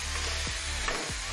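Maggi noodles being stir-fried chowmein-style with soy sauce, tomato sauce and Maggi masala in a pan on a gas stove: a steady close sizzle and scraping stir runs through the short stretch, with no talk.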